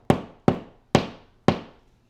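A hammer drives plastic wall anchors into drilled holes in a wall during an alarm system install: four sharp, evenly spaced taps with quick decays, close and loud, no talk.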